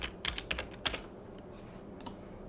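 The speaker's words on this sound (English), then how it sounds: "we type in the name of the variable" Short burst of typing on a computer keyboard, a handful of quick close key clicks at the start, then quieter scattered taps over a faint steady hum.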